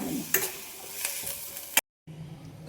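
Chicken tempering for egg and chicken sambar sizzles and crackles in a pan with a steady hiss for about two seconds, broken by sharp ticks of stirring, then cuts to near silence before a quieter room tone returns.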